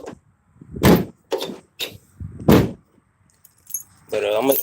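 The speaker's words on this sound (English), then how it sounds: "listen to them doors though" The doors of a G-body car are swung and shut in a run of sharp, fairly loud thumps and clunks with quiet gaps between them, and a voice speaks briefly near the end.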